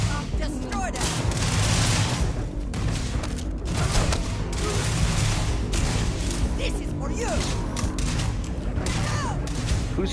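Grenade blasts and gunfire crackle through a sci-fi firefight in Starfield on PS5, dense bursts of booms and shots repeating throughout under a steady wash of battle noise, with voices talking over the action.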